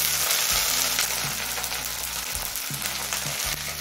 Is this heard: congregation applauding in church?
no